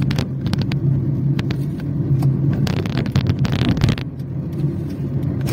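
Light Sunday-night road traffic flows along Avenida Juntas Provisórias, with a steady low rumble and cars passing close by in a row of whooshes, the loudest around the middle.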